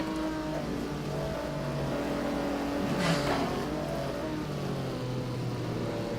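GT1 race cars, including a Koenigsegg, circle a Le Mans circuit in an endurance video game race, with overlapping engine drones rising and falling in pitch and one car sweeping past midway.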